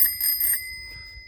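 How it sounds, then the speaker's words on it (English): A bell mounted on a drone rings in two or three quick, bright metallic bursts during the first half second, then fades into quiet low outdoor rumble. "how many drones do you know that have a bell?"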